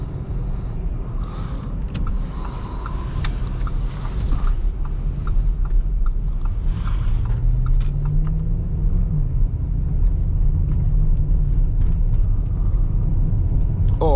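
Lamborghini Urus pulling away in first gear in manual mode, a steady low engine rumble that builds and rises in pitch midway, heard from inside the cabin with no talking.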